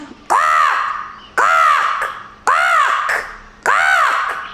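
A harsh, rasping Eurasian jay call repeats four times at even intervals, loud and close, each screech rising and falling with short pauses between.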